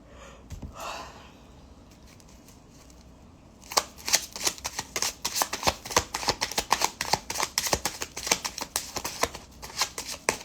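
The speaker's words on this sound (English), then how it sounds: "I'm going to go ahead and start drawing cards from this deck real quick" Cards shuffled from a deck, opening with a few soft handling rustles and breaths, then a long run of rapid crisp riffling snaps, close and fairly loud, with no talking.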